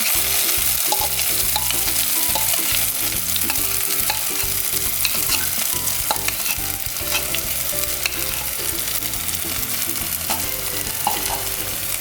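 Ground chili-garlic paste is sautéed in oil for a chicken dish, a spatula scraping and stirring steadily against the pan over a constant, close, loud sizzle lasting the whole stretch.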